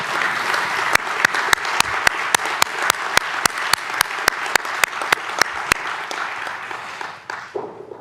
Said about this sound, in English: We should give Kristen another round of applause.